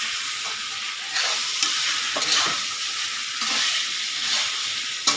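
Leftover rice mixed with sambar powder fries in a pan under a steady hissing sizzle, with repeated scraping stirs from a spoon against the pan and a sharp clink at the very end.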